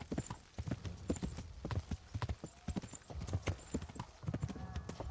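Horse hooves clip-clop steadily in the medieval world of Kingdom Come: Deliverance, a dense run of close, regular beats with a faint whinny now and then and no talk over them.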